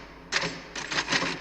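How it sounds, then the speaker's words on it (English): Clacking keystrokes from a typewriter in a film excerpt, a short burst followed by a longer run of rapid taps, fairly close and with no talking. "you hear me typing"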